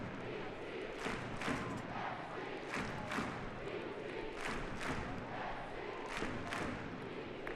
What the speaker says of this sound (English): Crowd getting behind their side, as they should do when you get a performance like this.